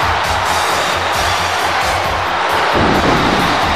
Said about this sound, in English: Chad going off in this capacity crowd